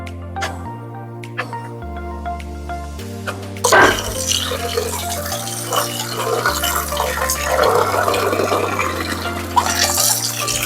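Rice is washed in water for a giant chicken curry feast, with sloshing, splashing and dripping against a steady low musical tone, growing busier and louder after the first few seconds.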